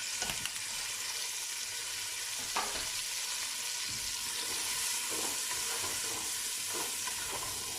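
Celery, onion and garlic frying in oil in a pan, a steady close sizzle and hiss that runs throughout with a few soft stirring knocks and clicks.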